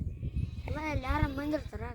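A sheep bleats loudly and close, a wavering drawn-out call, over a low rumbling background with some faint voices.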